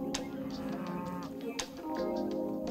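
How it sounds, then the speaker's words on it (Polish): A blue cow on a Podlasie farm gives a drawn-out moo, then a second shorter call, both fairly close and clear over faint farmyard background noise, with no talking. "Teraz odwiedzimy ostatnie krowy w tym gospodarstwie. Dwie sztuki niebieskie i jedną białogłową."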